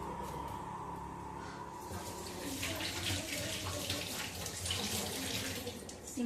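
A kitchen tap runs steadily into a sink while vegetables such as onions and tomatoes are rinsed directly under the stream for an egg tomato curry, a continuous splashing rush close by.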